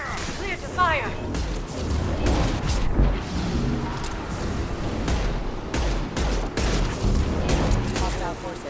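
Gunfire bursts and heavy impacts crash repeatedly through a Mass Effect 2 battle, loud and close, with whooshing and booming blasts layered under voices talking.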